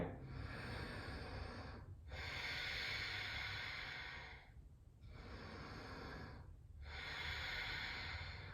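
Deep, slow breaths drawn through the nose during a yoga breathing exercise, heard close and fairly quiet as long airy rushes broken by three short pauses, with no talking.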